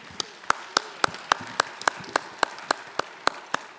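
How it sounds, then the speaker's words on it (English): Rhythmic clapping from a small audience at a Men's Day political forum in a Baptist church, with about a dozen evenly spaced, sharp hand claps in steady tempo and faint background murmur. "how about a round of applause for Dr."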